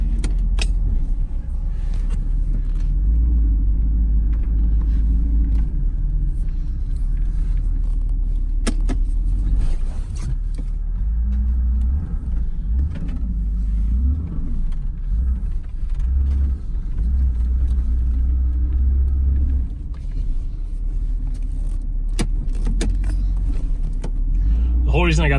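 A Tahoe with a struggling carburetor drives through snow, its steady low engine and road rumble filling the cab throughout, with occasional rattles and a voice speaking over it.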